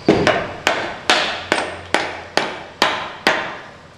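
Hammer striking firewood pieces to drive them into place in a stack, nine sharp, evenly spaced blows that each ring briefly, close and loud outdoors.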